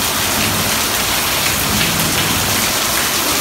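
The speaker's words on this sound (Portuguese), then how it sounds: "Chuva grossa." Heavy rain pours down in a loud, dense, unbroken hiss, close and steady throughout, with no voices.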